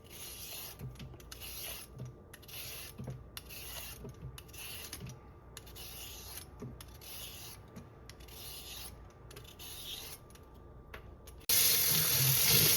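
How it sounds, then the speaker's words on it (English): Tap water runs into a sink while peeled beets and other vegetables are rinsed, a steady splashing stream with soft rubbing and clicking, before the flow suddenly grows louder near the end. "I rinse everything off"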